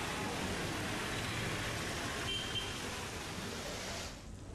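Steady light monsoon rain falls continuously in Gujarat as an even, dense hiss that stays level throughout, fading slightly at the very end.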